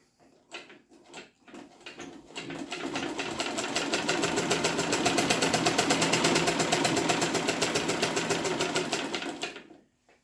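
A Zetina foot-pedal manual table sewing machine stitches fabric, starting with a few clunks before settling into a fast, even mechanical whir that runs for about seven seconds and then stops abruptly.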